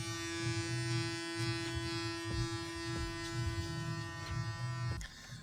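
An electric hair clipper with its head opened buzzes steadily up close while cutting a man's hair for a French crop, its hum rising and falling in short passes against the hair, with faint clicks toward the end.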